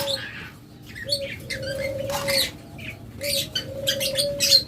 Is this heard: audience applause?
no